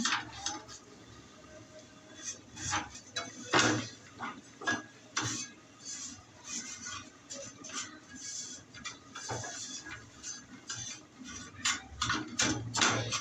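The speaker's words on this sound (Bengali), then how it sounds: "সেমাইটা ভেজে নিব। সুন্দর করে লাল লাল করে ভেজে নিব।" Vermicelli (semai) being fried in ghee in a pan, with irregular light ticks, scrapes and clinks of a spatula stirring the noodles, soft and close with a faint sizzle underneath.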